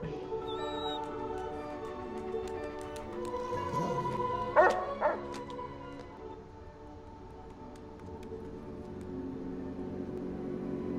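A dog barks and yips in a dog-versus-deer scene from the TV series Fargo, with a short burst of sharp yelps midway over quieter scene ambience.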